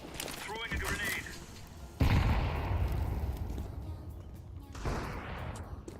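A grenade blast and gunfire in a video game, heard as a sharp boom followed by a rumbling tail and a second burst of fire. It is loud and close, and a voice talks underneath.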